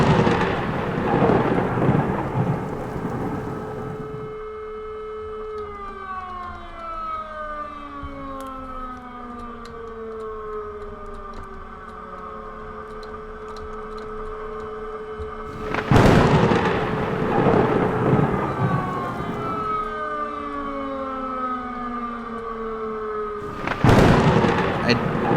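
Loud, close thunder cracks and rumbles with rain and gusting wind in the Farming Simulator 22 game, two heavy crashes standing out, while a long descending siren-like wail sweeps down through the storm between them.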